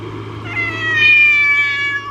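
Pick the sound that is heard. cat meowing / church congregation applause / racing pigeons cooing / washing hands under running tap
cat meowing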